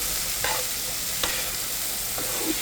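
Okra, shapla water lily stems and shrimp sizzle steadily in a frying pan while being stirred, with a few soft scraping clicks of the utensil over the constant close crackle.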